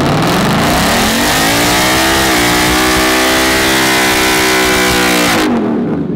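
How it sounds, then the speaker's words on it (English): A car revs hard at a car meet, its exhaust dumped straight off the header with no pipe running to the back. The engine is loud and close, climbing and holding a raw, rising roar for several seconds before it cuts off abruptly. "The exhaust is not coming out the back. It's coming right off the header."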